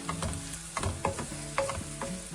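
Beef vindaloo masala being sautéed with onions in a pan, with repeated scraping stirs over a steady close sizzle and no talking.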